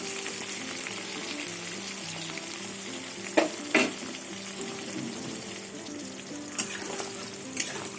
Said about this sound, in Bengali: পটল আরও ভাজা হবে এবার আর ঢাকবো না এমনি ভেজে নেবো ঢাকনা ছাড়াই